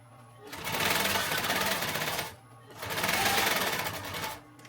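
Sewing machine stitching a backpack in two sustained whirring bursts of rapid needle strokes, loud and close, with a short pause between them.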